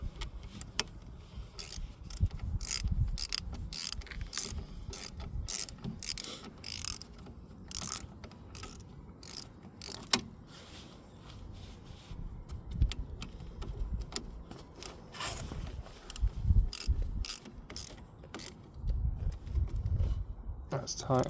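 Ratchet with a 13mm socket tightening the brake bolts on a 2010 Renault Twingo: repeated close metallic clicking strokes and clanks in uneven bursts, with someone talking over parts of it.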